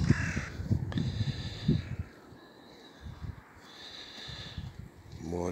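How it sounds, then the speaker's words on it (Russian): Crows caw by the sea near Sillamäe, Estonia, on a snowy day: a cluster of harsh, hoarse caws, then a quieter pause and more scattered calls over soft outdoor ambience. "Вороны каркают."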